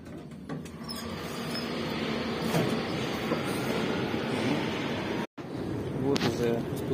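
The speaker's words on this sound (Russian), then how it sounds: "Вот уже спустился станция Фуантир. Метро." Broadband rumble of a metro station in Russia as a train runs, a steady roar under occasional voices, with a brief dropout near the end and faint wheel squeal.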